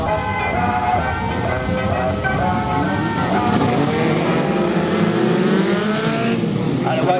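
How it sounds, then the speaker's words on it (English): Several race cars pull away together at the start of a race at Bovingdon Raceway, a loud continuous roar of engines revving and accelerating with rising pitch sweeps, close and dense, with a commentator's voice under the din. "And away go the cars."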